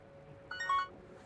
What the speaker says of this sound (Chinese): 对不起啊，我先接个电话。